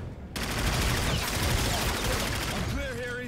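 Sustained gunfire from a futuristic combat mission in Call of Duty: Infinite Warfare, a dense continuous barrage of shots with metallic effects and faint radio chatter underneath.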